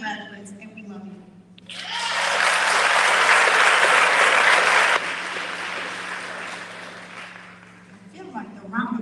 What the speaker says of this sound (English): I feel like the round of applause is getting a little shy.